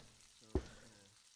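A steak hits a hot pan with one sudden loud slap, then a brief sizzle that fades quickly.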